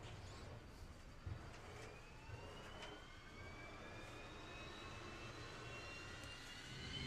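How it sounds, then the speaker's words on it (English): Starter motors whir on drag racing jet cars at a drag racing festival, a faint, distant rising whine sweeping upward over a steady low rumble of background engine noise. "So we hear the whir of the starter motors on the jets."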